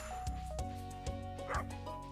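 A video game dog in Stardew Valley yips and barks in short, repeated bursts over steady game music, several quick barks at an even rhythm, with no talk.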